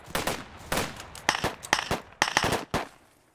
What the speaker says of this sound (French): Attention, ça tire.